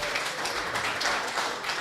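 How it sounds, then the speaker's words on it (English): A sparse round of applause from a supporters' trust Q&A audience, light scattered clapping that stays fairly quiet and even throughout. "Thanks for that meagre round of applause"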